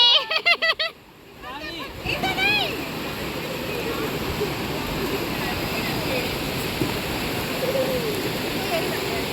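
Brief children's shouts at the start, then continuous rushing and splashing of people playing in river water at Manikaran Sahib, fairly close and steady.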